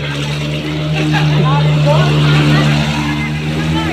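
A motorcycle engine drones steadily up close as it drives through deep flood water after heavy rain, water churning and splashing around it, with voices talking over the noise.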